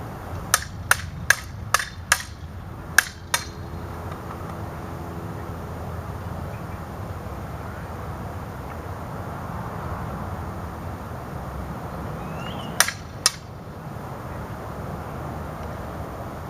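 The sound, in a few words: aluminum sabers clashing in sparring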